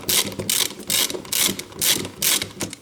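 A ratchet with a 13mm socket loosens the single upper starter motor bolt on a Ford Duratec HE engine, clicking in five rhythmic bursts of rapid pawl clatter, close and clear with no talking.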